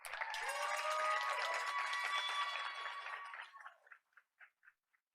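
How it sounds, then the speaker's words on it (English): An audience at a board of education meeting breaks into sustained applause that swells, holds, then thins into a few scattered final claps before falling silent. "Please put your hands together one more time for Pacific High School teacher Angela Quinlan."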